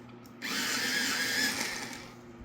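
A Prismacolor Premier colored pencil is sharpened in a small electric sharpener, giving a brief whirring grind of about two seconds that starts abruptly and then fades out.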